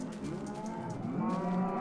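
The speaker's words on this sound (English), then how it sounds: "Cows." Cows in a Minecraft-style video game server let out several drawn-out, harmonic moos that overlap one another, moderately close and clear, with no talking.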